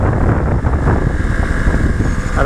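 Honda Grom motorcycle held at full throttle near top speed heading downhill, a loud steady engine drone buried in heavy wind rush, continuous and close throughout with no talking.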